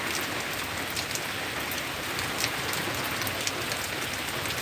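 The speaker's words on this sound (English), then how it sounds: "I need the rain to stop again so I can get back inside." Heavy rain from Hurricane Milton in Orlando pours steadily, a dense even hiss with scattered sharper drops spattering on a surface nearby.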